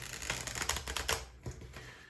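Tarot deck being shuffled by hand, a dense riffling patter of card edges for about a second, then a few softer flicks as it settles.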